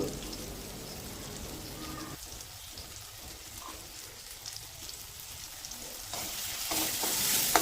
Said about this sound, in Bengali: এবার মশলাটাকে খুব ভালোভাবে কষিয়ে নেব মশলাটা যাতে না পুড়ে যায়